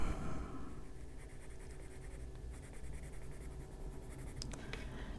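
Colored pencil pressed hard and scratched across the paper's tooth during adult coloring of a butterfly, a steady close dry rasping of strokes throughout, with a few brighter scrapes near the end.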